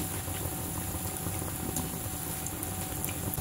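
Mixed dal bhaji fritters bubble and fry in hot oil over a full gas flame, a dense, continuous close-up crackle and boil with no pauses or voices.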